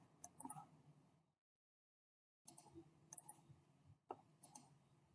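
Computer mouse clicks sound during work in Autodesk Inventor Professional 2023 CAD software, with sparse, quiet, close clicks in small clusters separated by a long silent pause.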